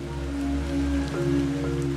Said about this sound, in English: Just got changed and now it's raining